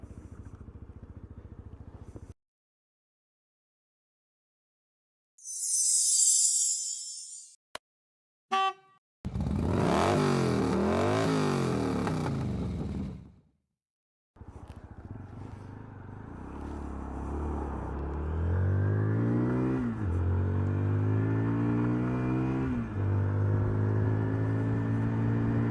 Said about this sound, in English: we are riding the Zontes Firefly 125cc Euro 4 motorbike